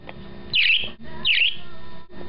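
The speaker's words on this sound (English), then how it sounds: "This is my bird, Birdie." A small pet bird gives two bright, high chirps about half a second apart, close and clear over a low background hum.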